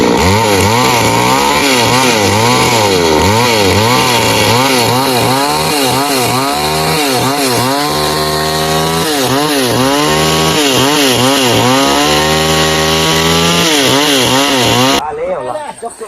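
A chainsaw cuts through wooden beams while building a bridge frame, its loud engine revving and bogging in repeated strokes for several seconds before cutting off, with no voices over it.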